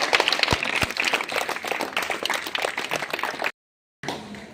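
Schoolgirls at a hostel health-camp event clap together, a fairly loud burst of many hands that tapers slightly before cutting off abruptly, followed by brief room noise.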